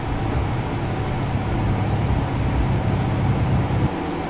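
A subscriber's loud car engine idles steadily up close, a dense low rumble with no talking over it.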